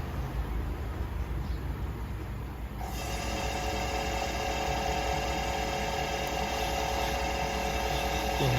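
A steady metallic grinding hum from a three-angle valve seat cutter cutting smoothly into an engine valve seat, continuous and fairly close, growing slightly fuller and brighter after a few seconds.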